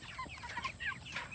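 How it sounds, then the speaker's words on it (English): Chickens clucking softly near a chicken tractor on a farm, a scatter of short, fairly quiet calls overlapping through the moment with no talk. "I think I've got all the chickens back in"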